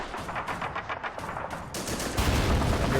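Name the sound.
autocannon firing in video game Men of War: Assault Squad 2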